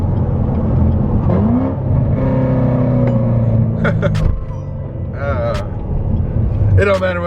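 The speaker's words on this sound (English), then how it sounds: "the Corvette is real loud because it's right there" A Corvette V8 engine revs loudly nearby, a deep rumbling exhaust roaring and dropping, with people talking and exclaiming over it.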